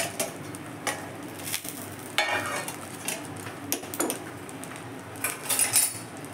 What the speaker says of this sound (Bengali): একটা চামচ আর খুন্তির সাহায্যে এটাকে এইভাবে উল্টিয়ে দেব